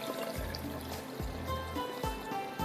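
Water poured into aam ka panna, a steady close stream trickling and filling with a continuous liquid rush and a few gurgling dips.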